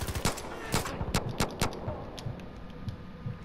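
Rapid bursts of gunfire in Far Cry 5 crack close and loud, several quick volleys in the first second and a half, then fainter scattered shots trail off.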